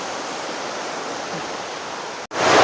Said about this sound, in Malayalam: ഇതാണ് ഉളക്കപ്പാറ വെള്ളച്ചാട്ടം